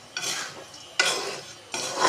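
Black chickpeas being stirred as they dry-roast in a pan, giving three bursts of gritty scraping and rattling at a steady interval, close and moderately loud, with no voices.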